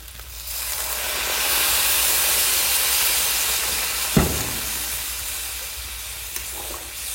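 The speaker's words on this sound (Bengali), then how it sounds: "এবার জল দিয়ে দিই," Hot water poured into a pan of duck curry with green and dried chillies sets off a loud, steady steamy hiss and sizzle lasting several seconds, with one brief sharp clunk near the end and no talking.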